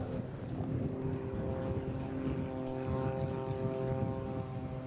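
A display aircraft's propeller engine drones steadily at an airshow in Eastbourne, a constant, moderately distant hum with a strong tonal whine and no voices.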